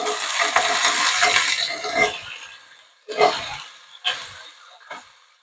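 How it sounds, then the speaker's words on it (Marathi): Potato, carrot, cauliflower, frozen peas and capsicum sizzle in a hot pan for a veg pulao, with a steady fry hiss that gives way to three or four separate scraping stirs, close and fairly loud. "भाज्या छानपैकी परतून घेऊया"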